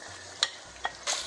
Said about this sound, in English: our carrots slightly got sautéed, not much